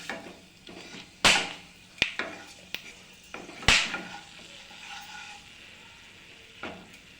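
Cardamom pods, cloves and cinnamon pieces stirred in hot oil for a Bengali chicken kosha: a few sharp spoon clanks against the pan over a faint, soft sizzle, with no talking.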